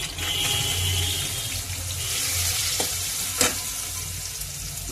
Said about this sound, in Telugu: ఇప్పుడు ఆనియన్స్ కూడా వేసుకుని రెండు కలిపి వేయించుకుందాము